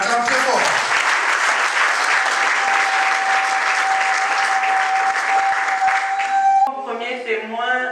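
Guests at a civil wedding ceremony clapping loudly and continuously in a room for several seconds before the applause stops and a voice begins speaking.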